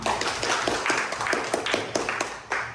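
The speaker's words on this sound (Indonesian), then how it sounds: "beri tepuk tangan untuk kita semua" A classroom group claps together indoors, a dense patter of overlapping hand claps at moderate volume, with a few louder claps standing out.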